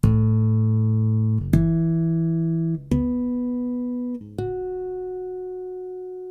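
Chapman Stick harmonics played through a Stickup pickup: four bell-like chimed notes struck one after another, each ringing and sustaining bright and clear until the next, close and alone.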